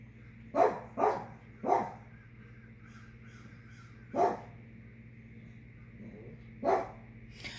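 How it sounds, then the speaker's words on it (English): A dog barks in single sharp bursts, three in quick succession, then two more after longer pauses, loud and fairly close over a low steady hum. "My dog's barking at him."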